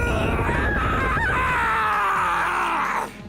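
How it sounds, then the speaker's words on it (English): A villain screams long and loud in the My Hero One's Justice 2 anime fighting video game, a strained, wavering yell lasting about three seconds before cutting off. "The wall started moving with that scream."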